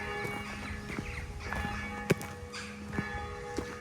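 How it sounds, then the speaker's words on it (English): Bell rung at St German's Cathedral in Peel, Isle of Man, calling people to prayer, heard outdoors at a distance as a few separate ringing strikes over steady ambient noise. "the dean's gone to ring the bell to call people to prayer"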